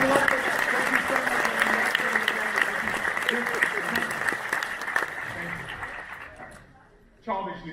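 Audience applause after a stage magic trick, a dense run of clapping that slowly thins and fades, followed by a brief sound at the end.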